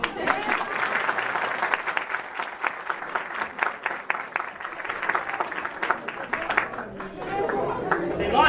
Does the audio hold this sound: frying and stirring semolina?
no